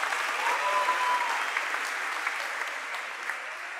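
A congregation gives a round of applause, sustained dense clapping from a crowd, steady and fairly close, with a faint whistle near the start.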